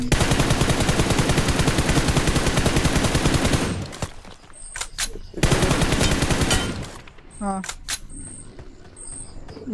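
Rapid gunfire bursts in a battle royale game, loud and dense for several seconds, then a pause with scattered single shots and clicks before another sustained volley and trailing single cracks.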